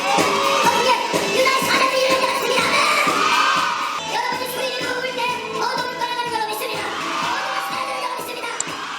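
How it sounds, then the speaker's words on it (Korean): A group of young children at a church worship gathering shouting loudly together: a dense, continuous roar of high voices that swells in bursts, close and steady with no clear single speaker. "어린 아이들한테 더 크게 소리 지르라고 하는데"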